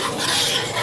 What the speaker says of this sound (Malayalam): നമുക്ക് അതിനകത്തോട്ട് 2/2 പാല് ചേർത്ത് കൊടുക്കാം. എന്നിട്ട് നന്നായിട്ടൊന്ന് മിക്സ് ചെയ്ത്